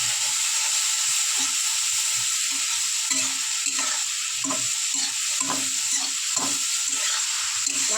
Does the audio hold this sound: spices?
yes